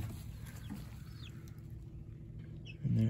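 Chickens in a backyard flock cluck faintly beside a homemade wooden coop, soft and somewhat distant over a low background hum, with a louder burst right at the end.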